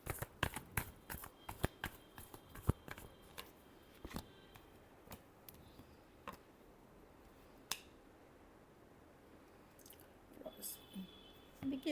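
Tarot cards are shuffled close by in quick, crisp riffles and flicks, bursts of sharp clicks separated by short pauses against a quiet room.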